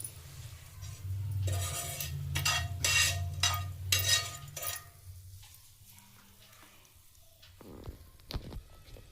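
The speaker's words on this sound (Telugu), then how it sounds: "ఇప్పుడు తాలింపుని పచ్చడిలో వేసేద్దాం." Hot tempering is poured and stirred into homemade tomato chutney, giving a few seconds of sizzling and spoon-scraping strokes close by, then quieter clinks and faint stirring.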